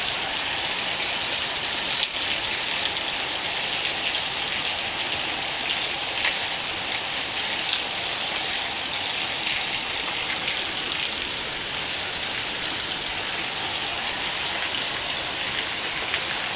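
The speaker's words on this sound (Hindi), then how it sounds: "अभी लगी हुई है एकदम झमाझम वाली बारिश" Steady, dense downpour of heavy evening rain in the hills, a continuous loud hiss of drops hitting surfaces with no pauses, and no voices.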